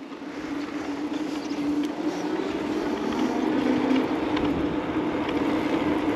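The motor of a DUOTTS C29 electric bike runs at assistance level 5, giving a steady, fairly loud drone with a low hum and a rushing, wind-like noise. It continues evenly, without pause or talk.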